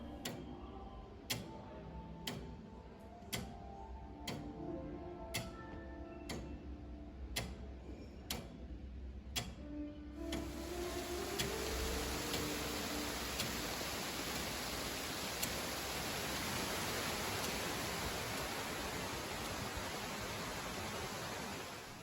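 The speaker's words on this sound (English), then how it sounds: "the ticking it was doing was so loud" A large clock ticks loudly and evenly, about one tick per second, clear and close at first, then half buried under a wash of steady broadband noise that continues as the ticks fade out.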